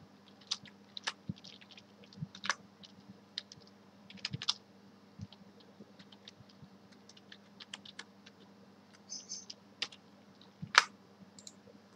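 Computer keyboard typing in scattered, irregular keystrokes and clicks, close and fairly quiet against a low steady hum, with no one speaking.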